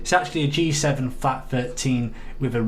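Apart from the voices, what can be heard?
No everyday noises stand out.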